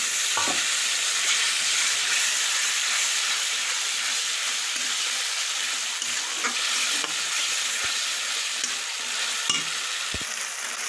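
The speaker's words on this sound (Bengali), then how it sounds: "এই দেখুন সর্ষা ভাজা হয়ে গেছে, এরকম তেল বেরিয়ে গেছে" Ground mustard paste fries with masala in oil for Bengali rui shorshe, a dense continuous sizzle and hiss with occasional stirring scrapes and clicks, close and steady with no talk.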